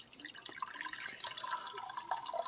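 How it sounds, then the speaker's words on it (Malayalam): Hot water poured into a pot for cooking soybeans gives a light, steady trickling splash with small drips, quiet and close, with no voices. "അപ്പം നമ്മൾ ലേശം വെള്ളം ഒഴിക്കുക."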